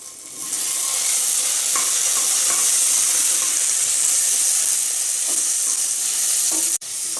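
Vegetables and tomatoes sauté in a pan for sambar, giving a loud, steady sizzle with a few soft stirring scrapes; the frying stays constant throughout, with one brief break near the end.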